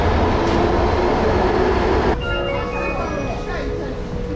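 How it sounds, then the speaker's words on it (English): A Nanjing subway train roars along its track, then the noise drops to a quieter rumble with squealing wheel tones and rail clatter as it slows. Faint voices mix in underneath. "We need to jump on the subway and see if we can't get into both of these spots."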